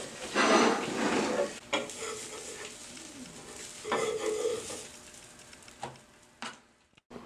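Fish slices frying in a pan and being turned with a spatula, giving a steady soft sizzle with scraping and stirring bursts and light clinks of utensil on pan, fairly close and quiet.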